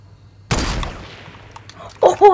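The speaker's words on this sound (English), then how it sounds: "there he's in a gunfight." A loud burst of gunfire from a Fortnite gunfight cracks out and decays, then a second quick shot follows. A voice comes through close, partly over the shots.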